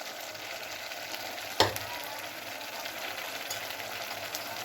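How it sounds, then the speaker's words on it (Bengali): Cauliflower frying in a pan as water is added for a Manchurian dish, giving a low continuous sizzle with one sharp splash-crackle burst partway through, then settling back to a steady simmering hiss. "আমি এখানে আরেকটু জল দিয়ে দেব"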